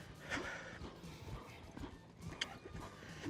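Hooves of a horse ridden through schooling turns in an arena, soft irregular thuds and clops at close range, with breathing and a snort mixed in.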